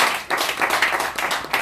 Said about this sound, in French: Il mérite quand même qu'on applaudisse.